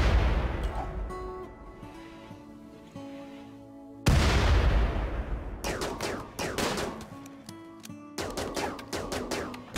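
Heavy booming blasts from grenade explosions in RimWorld, set against a music bed: one big detonation with a long decay, then a later cluster of sharp bursts, loud and close.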